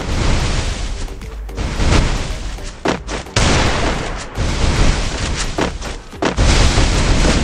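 Loud, dense Free Fire gunfire fills the whole stretch: rapid booming bursts and volleys with short gaps between them, all close and punchy, with no talk over it.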